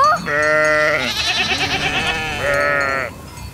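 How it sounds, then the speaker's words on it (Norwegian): Goats bleat in a farmyard, two long quavering cries in close succession with a wavering middle stretch, loud and near with no talking. "Bråket fra geitene får dragen til å våkne."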